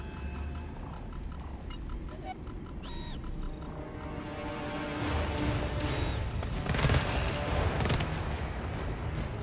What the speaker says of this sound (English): What was the shooting?